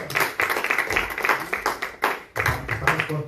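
A group claps in a congregation setting, brief bursts of hand claps with uneven rhythm and a few loud onsets, fairly close, with faint voices underneath.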